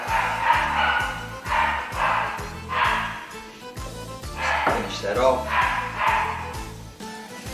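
Dogs bark in short, repeated bursts at moderate distance while a person talks over them in a home kitchen.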